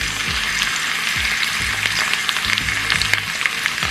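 Food fries in butter in a pan with a steady, loud, close sizzle and crackle that runs all the way through, without pause. Soft bumps and scrapes of stirring break in now and then.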